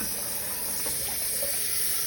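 Running tap water pouring steadily into a pot, a constant hissy splash close by without any voices.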